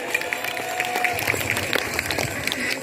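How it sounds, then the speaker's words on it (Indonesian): Audience applause follows a high school creative Sai dance performance at an Independence Day celebration, with dense, steady clapping and crowd noise sustained throughout the whole short stretch. "Mari kita sambut mereka dengan tepuk tangan yang meriah."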